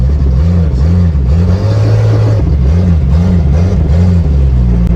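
A Jeep XJ engine runs with a misfire, giving a loud, lumpy, uneven low throb with a periodic wavering beat and some rattly clatter throughout.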